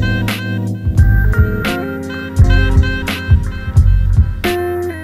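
Boom bap beat with a bright horn sample stabbing in steady eighth notes over punchy kicks and snares, loud and upfront with no talk.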